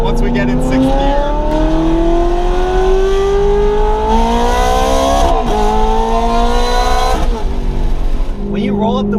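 A Ferrari Berlinetta engine roars loudly while driving, revving up through rising pitch with brief dips at gear changes, heard from inside the car with voices talking over it.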